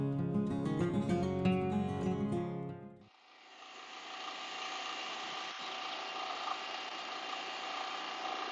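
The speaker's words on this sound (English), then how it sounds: "these open frame generators are very noisy" An open frame generator at a campsite runs loudly in a steady, dense mechanical drone, starting abruptly after a short burst of tonal, music-like sound and continuing unchanged, with no speech.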